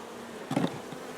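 Honey bees around an open hive, heard as a brief close buzz of a single insect passing over a faint steady background drone.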